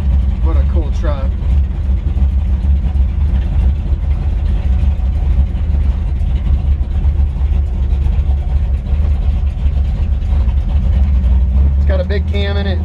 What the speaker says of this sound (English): Big cam in it, it's idled up just a little high.